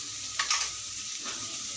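Chili powder, turmeric and garam masala stirred into hot oil in a pan, a soft steady sizzle with a couple of brief scraping stirs near the start.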